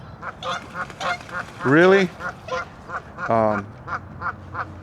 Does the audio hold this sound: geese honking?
yes